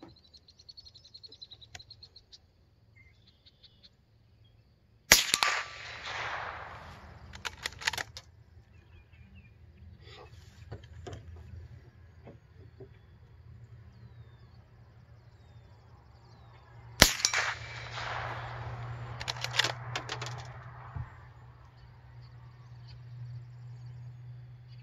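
Two sharp rifle shots from a Ruger M77/22 ring out about twelve seconds apart, each followed by a brief ringing from steel targets 50 yards downrange, with quiet outdoor hum between them.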